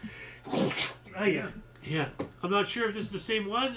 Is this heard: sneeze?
yes